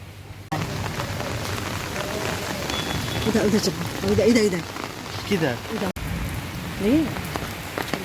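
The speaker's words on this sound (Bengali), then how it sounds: "প্রচণ্ড বৃষ্টি পড়ছে" Heavy night rain pours steadily on nearby surfaces, a dense hiss throughout, while a voice speaks intermittently over it.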